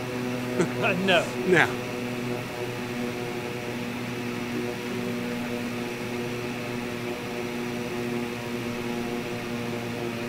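A turboprop Evolution aircraft in the X-Plane 12 flight simulator drops its propeller into beta reverse pitch after landing, a steady, humming tonal drone that holds throughout, with a man's brief remarks near the start.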